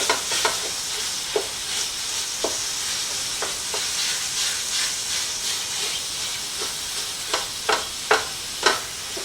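Ground pork and softened vegetables brown in a hot pan with a steady, close sizzle and hiss, punctuated by sharp scraping and stirring knocks from a utensil, with no talk over it.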